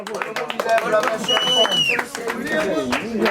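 Clapping at a small gathering in Réunion, handclaps rising and falling under lively, overlapping talk and whistled or sung tones from the group.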